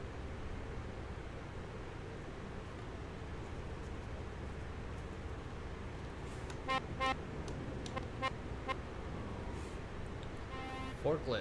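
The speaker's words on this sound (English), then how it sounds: "That'd be the normal horn of the truck." Truck horn in Euro Truck Simulator, several short honks in the second half sounding over a steady engine and road drone, with talking running underneath.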